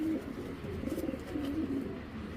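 A white tracer racing pigeon cooing close by, a soft, low, throaty coo repeated in a few rolling phrases against a quiet background.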